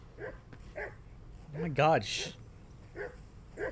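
A dog barks and yips several times at moderate distance in the video game Kingdom Come: Deliverance II, with a person exclaiming briefly over the barking.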